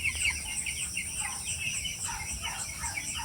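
Ten-day-old chicks kept for weighing make many overlapping high peeps in a continuous chatter, fairly close and moderately loud, with no talk.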